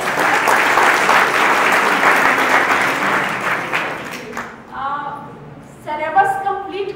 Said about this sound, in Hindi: हम दोनों अपने लिए एक बार ताली बजा लेते हैं।